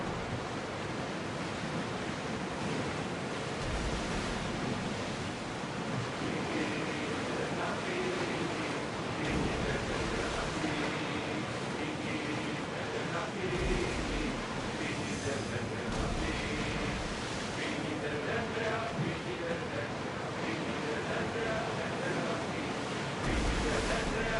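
A ship sails across ocean waves in the video game Assassin's Creed Odyssey, giving a steady, broad rush of surf and wind that runs unbroken and fairly loud throughout, with a voice calling out over it.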